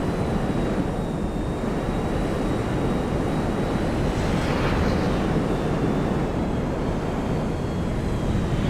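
A Rogue jet aircraft flying in GTA Online, a steady, loud, continuous engine roar and wind rush holding unchanged throughout with no breaks.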